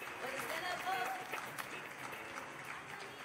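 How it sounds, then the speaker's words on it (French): Audience applause fills the room at the Heavent Festival Awards 2023 ceremony in Longchamp, a steady, moderately loud patter of many hands sustained throughout with a voice faintly mixed in. "Donc j'aimerais que vous applaudissiez, tout simplement."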